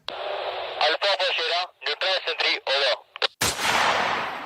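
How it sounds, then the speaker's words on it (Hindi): A sniper fires a single loud shot during an Indian Army demonstration. It follows choppy radio-like voice transmissions and rings on briefly at the end. "स्नाइपर टीम ने सटीक निशाने से आतंकवादी को निष्प्रभावी कर दिया है।"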